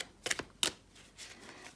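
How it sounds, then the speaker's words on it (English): True Black Tarot cards are shuffled by hand, giving two quick riffling bursts followed by softer card rustling, close and quiet with no talk. "shuffling like this, as you can see, is working fine"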